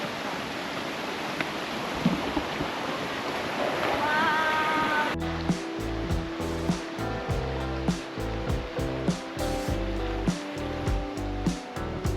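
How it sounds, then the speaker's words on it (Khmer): Rushing water pours with a continuous broadband hiss for several seconds, then music abruptly takes over and dominates the rest. "ទេសភាពសម្លេងទឹកធ្លាក់ទឹកហូរ"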